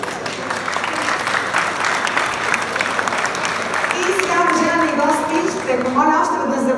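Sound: audience applause at an awards ceremony

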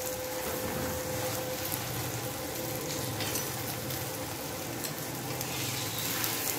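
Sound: mooli paratha frying in ghee

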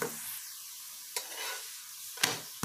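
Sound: fenugreek paratha frying on medium heat

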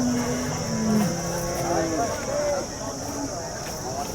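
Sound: cows mooing at cattle market

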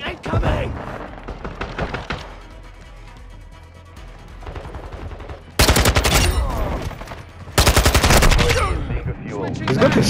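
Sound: submachine gun fire in video game Call of Duty MW2

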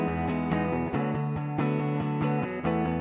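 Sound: clean guitar compressed by an FMR Audio RNC compressor

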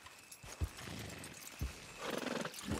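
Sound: horses neighing and hooves in Red Dead Redemption 2 video game

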